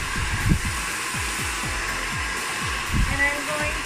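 A hair dryer blows hot air steadily while styling hair with a round brush, a constant close whir with faint bumps and knocks from the brush.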